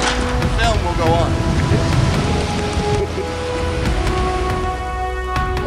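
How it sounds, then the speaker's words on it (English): Rain falls on a cold day outside the Malco Theatre marquee in downtown Hot Springs, a loud steady wash mixed with faint voices and sustained tonal hums. "Cold rainy day."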